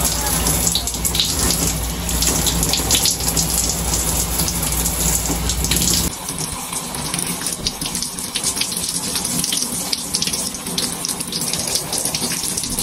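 Shower water runs steadily as a loud, continuous wash that fills the whole stretch, with a shift in tone about halfway through as the spray changes.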